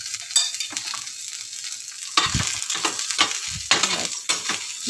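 Oil and onion sizzle loudly in a pan for black pea usal, close and continuous, with repeated scraping strokes of a spoon stirring through the hiss.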